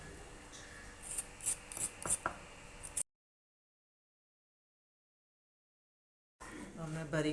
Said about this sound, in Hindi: अब मैं अदरक भी छील लूँगी।